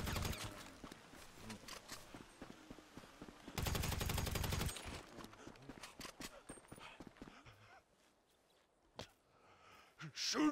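Gunfire in Grand Theft Auto V sounds as a sustained burst of rapid automatic shots lasting about a second, mixed with scattered single shots and game sounds, while people talk over it.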